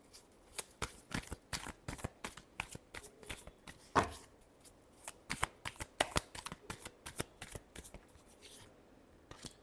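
A deck of tarot cards being shuffled by hand, with quick repeated riffles and flicks in uneven bursts, fairly quiet and close, no talking.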